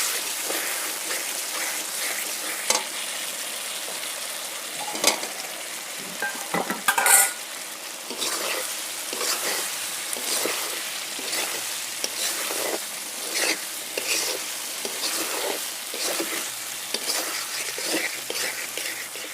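Meat curry masala is sautéed in a pan with a steady frying sizzle, punctuated by repeated spatula scrapes and a few louder clanks of a lid or utensil against the pan. Nobody speaks.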